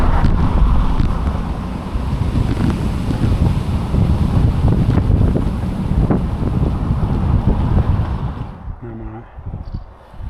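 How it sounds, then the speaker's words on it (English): Strong, gusty wind from Storm Floris roars and buffets a microphone during a bike ride near Gretna. The rumbling rush is loud and continuous and eases slightly at the very end. "The wind keeps coming in pockets, headwinds, crosswinds"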